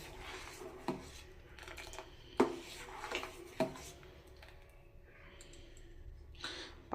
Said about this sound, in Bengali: তো এই জন্য বারে বারে একটুখানি নাড়তে হবে, এইভাবে নাড়তে হবে।